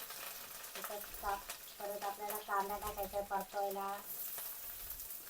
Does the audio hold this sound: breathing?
no